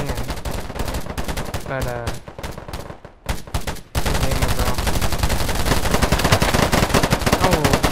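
Rapid automatic gunfire in the shooter game Polygon, loud and close, with sustained machine-gun bursts, a short lull and a few single shots, then a heavy continuous barrage; a voice speaks briefly.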